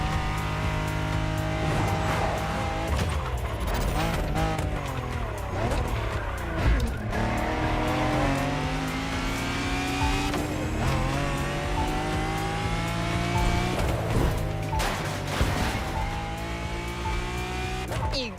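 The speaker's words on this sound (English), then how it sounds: "made by Lamborghini, described as an SSUV, super sport utility vehicle" A Lamborghini super sport utility vehicle driving in The Crew Motorfest, its engine droning and shifting pitch continuously with tire squeal over dense, loud game sound.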